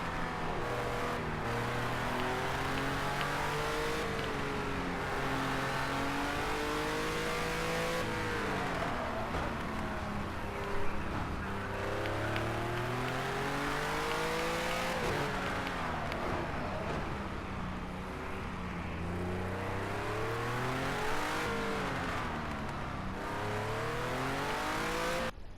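Race car engine in a racing video game revs continuously and loudly, its pitch climbing and dropping through repeated gear changes for the whole stretch, with no voice over it.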